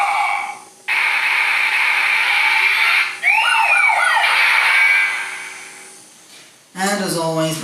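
Kamen Rider Drive DX belt toy firing its finisher attack, a loud electronic sequence of siren-like tones and sweeping chirps with short pauses, ending in a burst of warbling synthetic voice effects.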